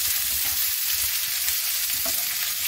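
Potatoes and onions brown in a pan for a veal ragout made from leftovers, giving a steady, fairly quiet sizzle and crackle with no talking.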